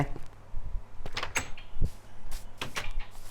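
A door in Minecraft shuts with a dull thud amid clicks and clatter, followed by a few more faint knocks and shuffles in a busy game soundscape.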